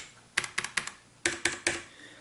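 Typing on a mechanical keyboard, with two quick bursts of three sharp, clacky keystrokes each separated by a short pause, close and clear with no talking.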